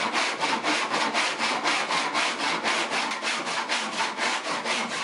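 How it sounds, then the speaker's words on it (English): A cheap rough-cut tenon saw cuts through wood while shaping a hand-carved stool seat, giving a fast, even back-and-forth rasp of about four strokes per second, close and loud, with no voices. "This is a rough cut, cheap tenon saw."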